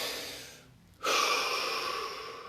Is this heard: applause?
no